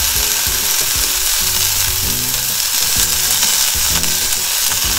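Broccoli and garlic fry in a pan as a steady, loud sizzle, with rhythmic scraping and stirring knocks repeating throughout, close up and without voices.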